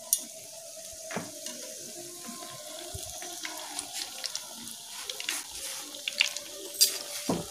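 A bread sandwich coated in biscuit crumbs sizzles gently in hot oil over medium heat, a faint steady crackle with scattered pops and small clinks close by.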